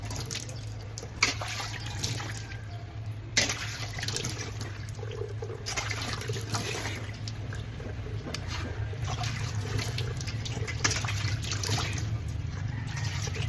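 Running water rinses soap off after a soak, a steady close splashing and trickling stream that carries on throughout, with occasional louder splashes over a low hum.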